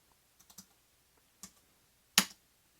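A few light key clicks on a Keychron B11 Pro foldable keyboard held up in the hand, sparse taps followed by one sharper, louder keystroke near the end, close and quiet.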